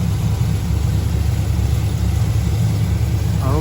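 A 2015 Chevrolet Camaro SS V8 fitted with a PMAS air intake idles heard from inside the car, a loud, steady low rumble with a constant throb and no talk.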